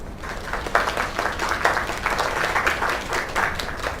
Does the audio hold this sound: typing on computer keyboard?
no